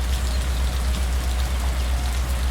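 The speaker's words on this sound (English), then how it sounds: "there's a rain sound effect" Steady rain sound effect in the train simulator game Trainz 2019: a continuous patter of raindrops over a low rumble, even and close with no talking.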